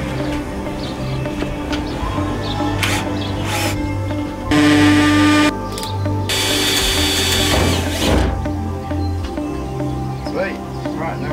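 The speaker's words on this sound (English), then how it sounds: "Drilled a little hole." A power drill bores a small hole in a van with loud whining bursts, one steady burst and a longer one a moment later, amid workshop clatter and a speaking voice.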